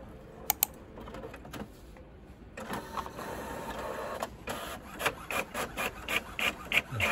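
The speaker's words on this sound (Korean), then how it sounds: "한번 테스트 페이지 인쇄 한번 눌러봤습니다." An HP OfficeJet 9010 inkjet printer prints a test page, close by: a few sharp clicks, then a whirring paper feed and a run of rhythmic mechanical strokes that grow louder toward the end.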